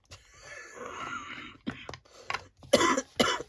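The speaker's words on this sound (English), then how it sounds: "I laughed then and that made me cough" A raspy throat sound leads into several short, harsh coughs in quick succession, close and fairly loud.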